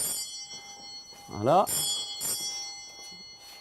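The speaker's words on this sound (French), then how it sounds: "La cloche s'emballe déjà pour accueillir les futurs clients" A shop bell jangles at the entrance of a cobbler's workshop set in a converted garage, a bright metallic shaking burst with ringing overtones, while a voice speaks briefly around it.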